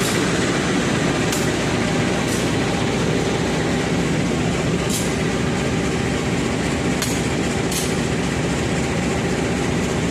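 A CC203-bodied diesel locomotive with CC201 engine specs, number CC2018348, roars loudly and steadily up close, a dense constant rumble punctuated by a few sharp metallic clanks.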